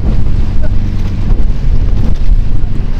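Strong wind and rough sea around a boat out at sea off Baler during a typhoon, a loud, close, unbroken roar of buffeting and rumbling water with no clear voices.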